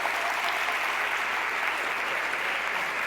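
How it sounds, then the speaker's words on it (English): Steady, dense applause from a graduation crowd, continuous and fairly loud throughout with no pauses. "You give yourself a round of applause."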